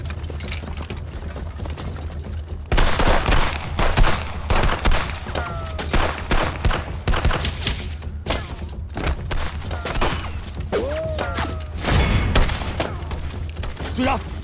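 Rapid gunfire crackles through a battle scene as troops are surrounded on three sides, dense bursts of shots and volleys, loud and close, with shouted voices in between.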